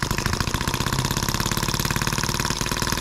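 A small scale-model Atkinson engine, the M14, runs close by with a fast, even, chugging beat that stays steady and loud throughout.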